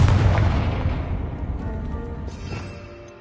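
Booming spell explosions from the video game Hogwarts Legacy, cast as Bombarda and Confringo: a loud blast with a heavy low rumble that slowly decays over a few seconds, with a second, fainter burst near the end.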